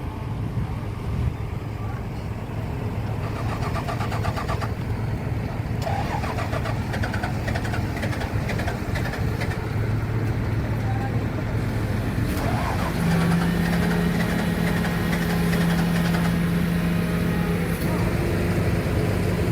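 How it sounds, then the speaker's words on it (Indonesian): Diesel locomotive number 4, a freshly painted sugar-mill engine, cranks over and starts, then settles into a steady, loud low idle rumble close by. "Oke, lokomotif akan dinyalakan teman-teman."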